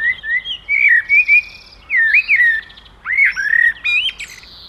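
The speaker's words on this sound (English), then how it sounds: "This is of a male calling to a female." A male blackbird calls to a female with bursts of fluting, squawky whistles and chirps in short phrases broken by brief pauses, close and clear with no other sound.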